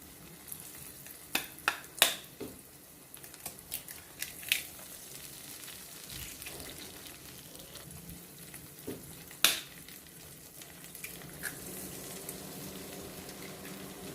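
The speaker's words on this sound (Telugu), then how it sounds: "ఇప్పుడు మనం 4 గుడ్లు తీసుకొని పగలగొట్టి ఇందులో వేసేసుకున్నాము" Four beaten eggs sizzle softly in a hot pan while a spoon stirs and scrapes against the metal, making sharp clicks and taps over a low, steady frying hiss.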